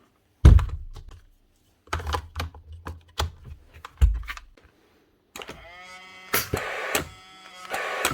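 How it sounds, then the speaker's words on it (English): A Paslode IM50F18 cordless nail gun that will not fire, making dull thuds instead of a bang as it is triggered, a few close, sharp knocks spaced apart, followed by a whirring, rattling mechanical burst near the end. "Making a thud instead of a bang, and she's not putting out any nails."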